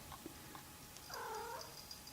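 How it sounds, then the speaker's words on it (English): A cat inside Thornhaven Manor gives a single drawn-out meow, fairly close but low in level, over quiet room noise with a few faint knocks. "That was a cat."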